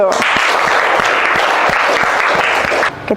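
A classroom of students applauds together in a dense, steady wash of clapping that holds for about three seconds and then cuts off abruptly, with a teacher leading the class.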